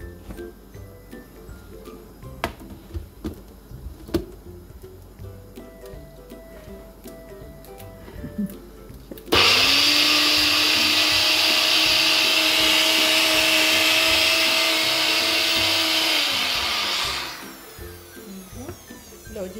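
A kitchen mixer grinder blends coriander leaves, cumin, salt and a little milk into chutney, kicking on loudly with a steady high whine for about eight seconds before winding down, after quiet ticking and handling sounds.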